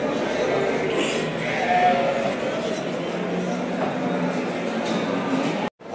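Sheep bleat amid the constant murmur of a busy livestock market in Aksaray, with nearby voices talking over a dense crowd hubbub before a sudden cutoff near the end.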